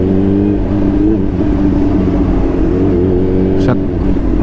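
A Kawasaki H2 motorcycle with smart boost, downshifting from high RPM: a loud, close, steady engine drone with a slight wavering in pitch, then a brief sharp chirp near the end.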